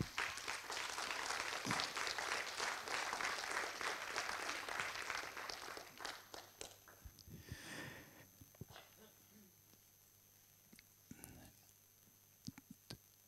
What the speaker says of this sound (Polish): Wielkie brawa jeszcze raz dla autora